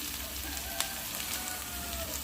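Crushed green garlic cloves dropped into a pan of already-fried onions for an okra fry, giving a steady, even sizzle of frying oil close by with no talking.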